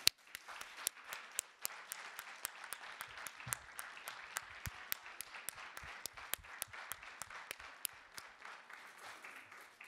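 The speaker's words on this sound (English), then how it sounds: "it's fitting to wind up the day with another round of applause for that team" A faint room of applause for the team closing out an academic art history panel at the Hood, with steady soft patter punctuated by sharp individual claps.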